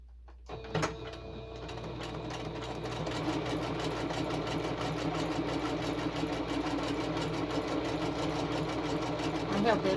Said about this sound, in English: Probably not with this sewing machine.